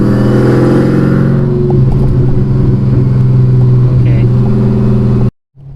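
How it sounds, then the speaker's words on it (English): A Chevrolet Camaro ZL1 engine, modified to 940 hp, drones steadily with a low, muffled exhaust rumble, heard from inside the car while driving in town; the sound cuts off abruptly near the end. "the nice comforting sound of a mufflered car as we're doing right now"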